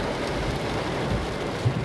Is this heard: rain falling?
yes